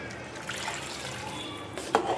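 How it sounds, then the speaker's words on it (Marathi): Water is poured into a simmering fish curry masala, a soft, close trickling splash that ends in a brief louder gush. "तर आपल्याला जेवढं पाहिजे तेवढं पाणी आपण ओतून घ्यायचंय"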